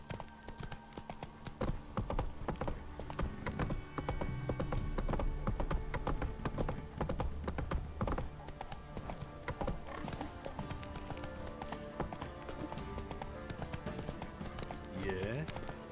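Horse hooves clip-clop in The Witcher 3, a steady trotting rhythm that runs throughout, with a voice talking over it and an occasional whinny.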